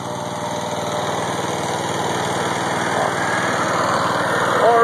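A homemade Frankenstein power generator engine runs steadily and close, its high-pitched drone rising slightly as it picks up a small electrical load, with no talking.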